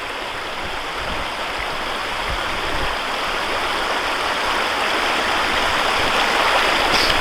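Steady rushing creek water flows and splashes nearby through a sluice box, a continuous broadband babble with no voices over it.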